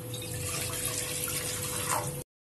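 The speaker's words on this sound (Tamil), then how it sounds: "2 கப் தண்ணி சேர்த்துக்கலாம்" Steady stream of water pouring into a pan, a continuous splashing rush for about two seconds before it cuts off.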